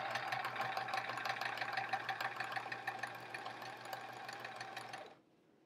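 A sewing machine hums evenly at close range as it joins a sashing strip onto a quilt block, a continuous motor drone that stops abruptly near the end, leaving near silence.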